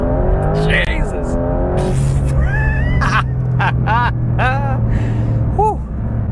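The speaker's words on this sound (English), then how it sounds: "There's quite a lot of wheel spin there." A Porsche 911 GTS launches hard in Sport Plus mode, its engine revving in rising and falling sweeps as the tyres spin, under loud excited voices.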